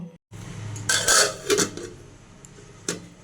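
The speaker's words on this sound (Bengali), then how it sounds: "এরপর একটা ঢাকনা দিয়ে এটা আমি ঢেকে সেদ্ধ করে নেব।" A metal lid set onto a pot of boiling masoor lentils, a few sharp clinks and clatters of metal on metal over a quiet kitchen background.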